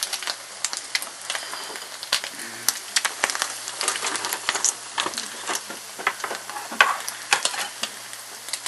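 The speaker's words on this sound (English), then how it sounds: "so they're going to fry up, and you just let them keep frying." Canned salmon cakes fry steadily in a pan, giving a continuous close sizzle and crackle with scattered sharp pops and spits throughout, without talk.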